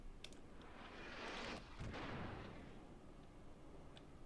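Enemy battleship high-explosive shells fired in a World of Warships naval battle with the IJN Satsuma: a broad rumbling blast swells and fades over several seconds, with sharp cracks at the start and middle, fairly loud.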